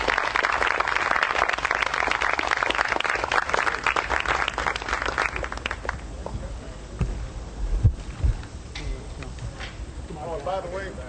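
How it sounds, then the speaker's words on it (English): Audience applause at a presidential town hall in Columbus, Ohio, dense clapping for about six seconds that thins to scattered claps, thumps and a voice toward the end. "Give them a big round of applause, everybody."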